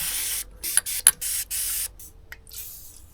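Short bursts of WD-40 spray hiss during a 1975 Simson engine rebuild, several quick puffs followed by a couple of longer sprays, close and fairly loud, with no one speaking.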